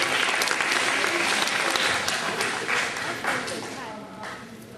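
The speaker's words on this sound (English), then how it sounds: "Good job, give a round of applause." Classroom of students applauding after a school presentation, dense steady clapping that starts loud and gradually thins and fades toward the end.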